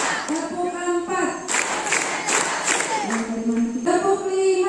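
A group claps in short bursts during a Ramadan gathering at an Islamic boarding school, with sing-song chanting voices leading before and after a loud stretch of clapping in the middle.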